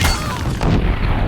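A bomb explosion in the Horizon Zero Dawn video game bursts loudly at the start and is followed by a rumbling decay with a second smaller blast partway through.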